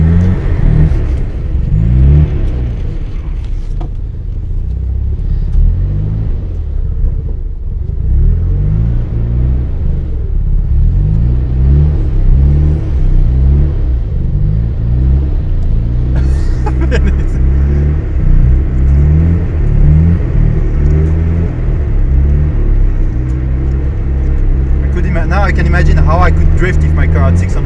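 A 600-horsepower car drifts on a frozen lake in Nagano, its engine droning and revving in loud, sustained waves through the whole clip, with surging rises and falls as it slides. People's voices can be heard faintly underneath.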